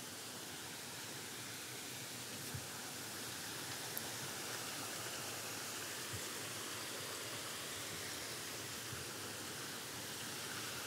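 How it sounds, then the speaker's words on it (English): A waterfall in a Japanese garden at a botanical estate rushes continuously, a steady broadband roar of falling water, close and unbroken, with no voices. "And past another waterfall."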